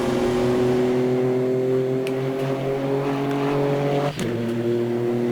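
A Radical race car engine droning at high, steady revs around Monza in rFactor 2, the pitch climbing slowly before a sharp drop at a gear change, then holding again. Loud and continuous, with no talking.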